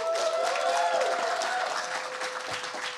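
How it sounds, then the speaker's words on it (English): Warm audience applause in an event hall, a dense, steady clapping that fills the room evenly, with a faint tonal hum running underneath. "can I have one round of warm applause?"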